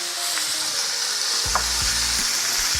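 Rosemary sprigs hit butter in a piping-hot cast iron skillet for a ribeye, a steady loud broadband sizzle with a few low thumps and crackles as the herbs land, no talking.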